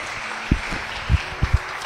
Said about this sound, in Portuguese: Dá um lindo aplauso ao Espírito Santo nessa manhã